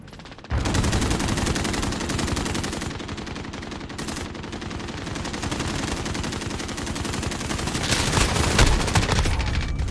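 Sustained M4A1 rifle fire in Call of Duty Modern Warfare, rapid automatic bursts running almost unbroken for ten seconds, loud and close, with one brief pause and other gunfire mixed in.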